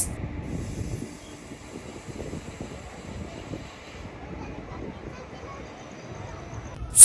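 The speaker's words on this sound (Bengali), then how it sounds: "আমাদের ট্রেন অতিক্রম করছে তার একাদশতম স্টপেজ মুর্শিদাবাদ জেলার" The Howrah–Malda Town Intercity Express runs through Murshidabad district at night, a steady muffled rolling rumble heard from onboard, with a voice talking over it throughout and a sharp burst at the very end.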